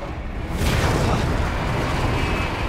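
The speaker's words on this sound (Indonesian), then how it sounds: "Wah, meledak, guys. Apa nih yang meledak?" A loud explosion in the video game Resident Evil 2 erupts after a brief pause, a heavy broadband blast that rumbles on steadily for a couple of seconds.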